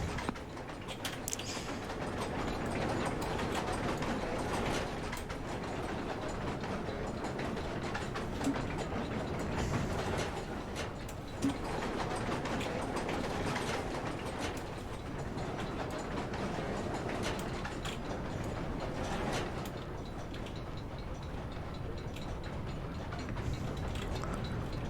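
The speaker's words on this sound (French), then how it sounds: "Les deux leviers commandent la machine bruyante." A noisy lever-driven machine in Amnesia The Dark Descent, a steady loud mechanical clanking and grinding that runs continuously throughout with no speech.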